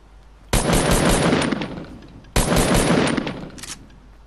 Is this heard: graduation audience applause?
no